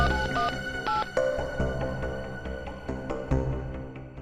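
Telephone keypad tones ring out as a number is dialed in a TV crime drama, two short electronic beeps near the start followed by further clicks and background sounds.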